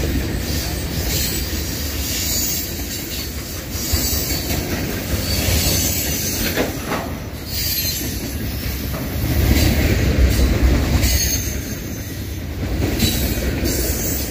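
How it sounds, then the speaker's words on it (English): Long Norfolk Southern mixed freight train rolling past at close range, a steady heavy rumble of wheels and cars with occasional squeals and rail clatter, swelling louder toward the end, no voices. "A long train for NS."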